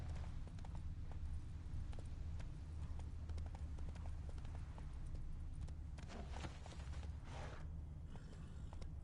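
Roach the horse from Witcher 3 gallops in a rapid steady clip-clop of hooves, faint and low under a continuous game background rumble.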